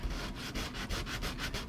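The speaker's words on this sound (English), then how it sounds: "I've just got a sanding block here with some 80 grit sandpaper on it." Steady rhythmic rasp of an 80 grit sandpaper block rubbed back and forth around a wheel between the spokes, close and continuous with regular strokes and no talking.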